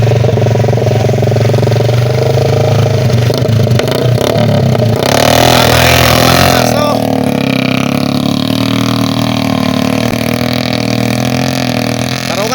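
Loud, continuous motorcycle engines revving and rattling on a rice field as riders haul sacks of rice, the roar rising and shifting throughout, close and dominant.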